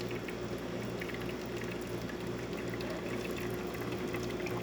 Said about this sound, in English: hot water from this machine, as you can see, it's a nice steady stream coming out through there